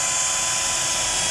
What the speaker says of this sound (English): 3/32 drill bit, and we're gonna follow it with the included hardware, the self-tapping hardware, using a T25